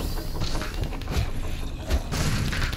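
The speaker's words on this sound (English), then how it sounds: "explosions." Explosions in the Minecraft Dungeons action game, Cacti Canyon level: a few dull booms and thuds spaced irregularly over a steady busy bed of game noise, moderately loud, with no talking.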